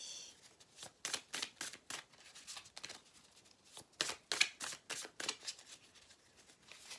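Oracle cards shuffled by hand, a quick irregular series of crisp, close flicks and slaps in two bursts with a short pause between, quiet background and no voice.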